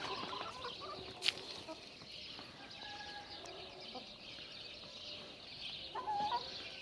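Chickens and roosters, including white roosters, clucking around a farmyard as feed is scattered, with a faint steady flock chatter, a brief sharp call near the start and a livelier burst of clucks toward the end.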